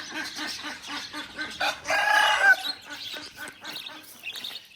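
Hens cluck on a farm, a run of short rhythmic clucks close by with a louder burst of squawking cackles in the middle, then more scattered clucks.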